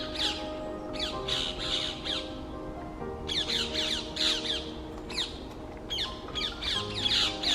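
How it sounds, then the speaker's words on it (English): A flock of parakeets squawks harshly and repeatedly near a moored narrowboat, with loud bursts of overlapping calls in irregular clusters and short pauses between them. "are so many parakeets"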